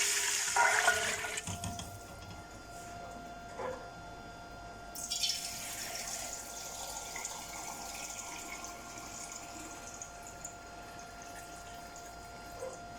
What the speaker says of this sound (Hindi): एक कप मेरे चावल हैं तो मैं डबल पानी डाल रही हूँ